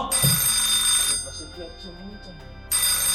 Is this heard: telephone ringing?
yes